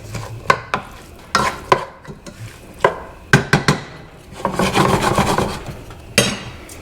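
Onions and peppers stirred in a pan for camarones enchilados, giving close, loud scraping and rasping strokes in irregular bursts. A longer stretch of continuous scraping runs near the end, with no talk.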